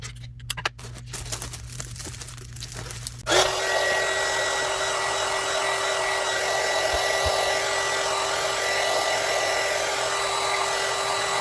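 A handheld heat tool kicks on after a few faint clicks and blows a steady, loud whooshing hum onto plastic shrink wrap around a gift basket, running continuously with no talk.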